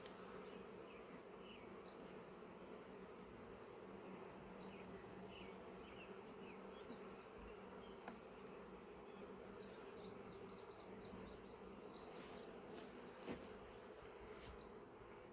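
Honeybees buzz steadily inside an open beehive, a soft, continuous drone from many insects close by with occasional individual bees passing.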